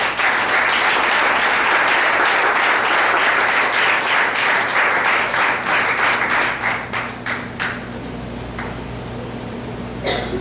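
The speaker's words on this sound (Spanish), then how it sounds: "Den un aplauso fuerte al Señor." A church congregation breaks into loud, sustained clapping and applause that lasts several seconds before thinning out into scattered claps.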